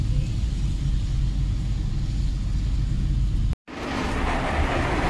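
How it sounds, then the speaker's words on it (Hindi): A car creeps slowly along a foggy hill road near Nainital, a steady low engine and road rumble filling the cabin, briefly cutting out before resuming with a brighter, rougher drone. "धुंध में गाड़ी चलाना, और धीमे धीमे गाड़ी चल रही है हमारी।"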